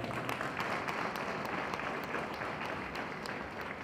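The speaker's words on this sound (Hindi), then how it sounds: "एक जोरदार ताली तो होनी चाहिए।" Audience applause at a Safe Shop business meeting in Jaigaon, a steady wash of many hands clapping at moderate distance, fairly soft and continuous.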